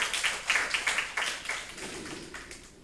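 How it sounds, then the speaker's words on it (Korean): A small church congregation claps together in a brief, fairly close round of applause during a Sunday morning service that quickly thins out and fades. "우리 박수로 축복하겠습니다."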